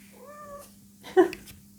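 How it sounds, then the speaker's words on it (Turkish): A pet cat meows once with a clear, drawn-out call, followed by a brief louder vocal burst, heard close up over a steady low hum with no talking. "Evet Tarçın miyav dedi."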